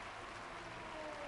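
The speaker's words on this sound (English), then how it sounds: "I said let's get back to the racing, and the crowd started cheering again" A crowd in a racing video game at the Austria GP cheers and applauds in a dense, even wash of noise, brief and steady, with no one speaking.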